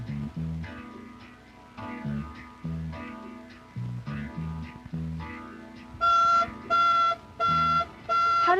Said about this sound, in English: if a burglar trips the alarm, it is fed to a security center.